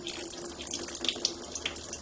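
Fluid from a rear main seal leak on an LS-swapped Mazda Miata, heard as a continuous trickling, splashing water-like sound close by, steady for two seconds with no talking.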